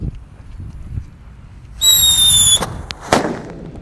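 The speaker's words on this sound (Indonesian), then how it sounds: "Lanjut yang kita nyalakan, di sini ada mercon King Thunder" A King Thunder firecracker, not wrapped in paper, lets out a steady high whistling tone for under a second, then gives off a few sharp cracks and one louder bang close by.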